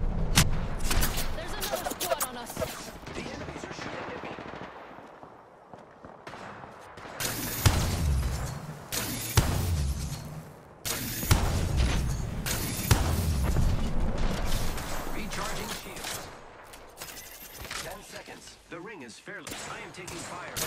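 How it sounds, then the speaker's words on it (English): Enemy gunfire in Apex Legends during a ranked match: dense bursts of automatic shots and booms, loud and close, coming in repeated clusters with quieter gaps, and a voice speaks now and then in between. "The enemies are shooting at me."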